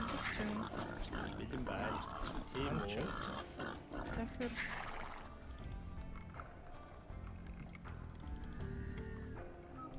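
Boar grunts and squeals sound in an Age of Empires II Genghis Khan campaign battle, mixed with hooves, game effects and a talking voice, busy at first then quieter.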